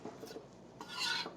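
A lemon is zested with a zester, giving close, quiet rasping scrapes in two short bursts, the second longer and brighter.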